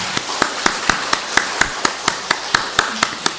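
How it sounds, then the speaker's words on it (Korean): A church congregation claps to welcome a new member at Sunday worship, a sharp, regular rhythm of loud unison beats, about four per second, running throughout. "우리 박수로 환영하겠습니다"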